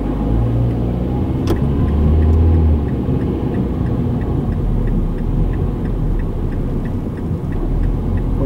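Steady road rumble and engine hum inside a car driving on a road in Kyoto during a lane change, with a faint regular ticking of the turn signal running throughout.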